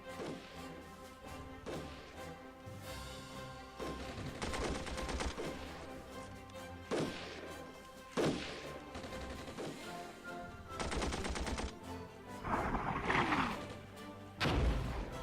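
Machine gun and cannon fire in the tank warfare game Armored Brigade, scattered sharp shots and short bursts that crack out at irregular intervals, some loud and some distant, at modest overall volume with no speech.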